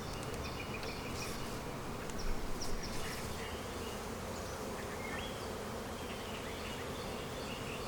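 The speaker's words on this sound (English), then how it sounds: "bees get going, look at how they behave on the frame. Look how excited they are." Honey bees swarm and drone around an opened hive frame during spring hive work, a dense steady buzz with individual bees whining close by, outdoors with no voices.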